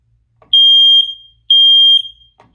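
A smoke alarm sounds two loud, piercing high-pitched beeps, each about half a second long, with a pause between them.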